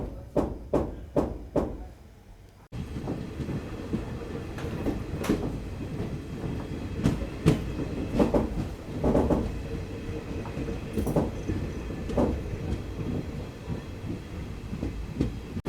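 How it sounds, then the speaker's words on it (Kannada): A train's wheels clack rhythmically over rail joints as it enters Haveri at speed, then a heavy, rumbling ride follows with scattered knocks and clunks as it brakes. "ಹಾವೇರಿಗೆ ಎಷ್ಟು ಸ್ಪೀಡಾಗಿ ಎಂಟ್ರ್ ಆಯ್ತು ನಮ್ಮ ಟ್ರೈನ್"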